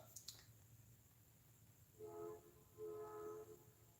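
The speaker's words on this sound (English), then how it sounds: "I guess he's got one of the big air horns on his truck" A neighbor's truck with a big air horn sounds two sustained, harmonic blasts from a distance, the first short and the second longer, over a low steady background hum.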